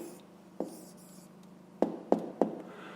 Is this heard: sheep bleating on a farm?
no